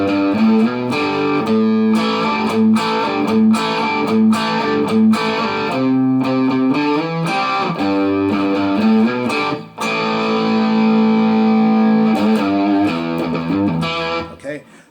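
Slow blues rock riff on a distorted electric guitar, with open-string pull-off licks ringing out as sustained, chorded notes at a steady, deliberate pace, loud and close.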